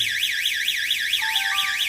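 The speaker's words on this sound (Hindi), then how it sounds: "warning door shutter open, alarm बज रहा है" A GSM security system alarm sounds after a door shutter is opened, a loud, continuous warbling electronic siren rising and falling in rapid regular sweeps, with a second steady tone joining near the end and no speech.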